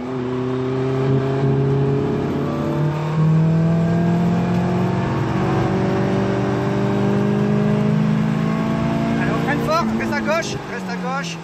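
A Caterham sports car accelerates hard on a race circuit, its engine note climbing through rising, droning harmonics with a quick gear change near the end, while someone talks over it.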